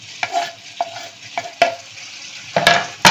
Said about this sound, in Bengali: মাংসটা এখনো নেড়ে যাচ্ছি